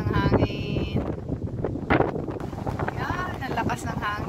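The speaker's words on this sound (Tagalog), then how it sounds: "Yan, ang lakas ng hangin." Strong wind roars and gusts during a rainstorm, a loud broadband rush with buffeting against the microphone and a creaking, rattling sway, while people talk intermittently over it.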